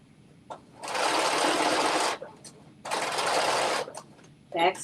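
A sewing machine stitches fabric for an off-the-shoulder top in two sustained, even bursts of motor whir, separated by brief pauses with small clicks and handling noises.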